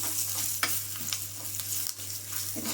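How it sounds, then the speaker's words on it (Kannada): Tempering with curry leaves and a broken Byadgi chili sizzling in a small pan, a continuous close fry hiss broken by a few stirring scrapes over a low steady hum. "ಒಗ್ಗರಣೆ ರೆಡಿ ಮಾಡಿಟ್ಕೊಂಡ್ಬಿಡೋಣ"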